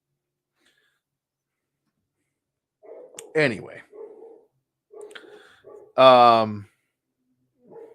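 A pet dog barks indoors, one sharp bark and then a louder, longer bark a few seconds later, close to the mic, with a person talking briefly in between.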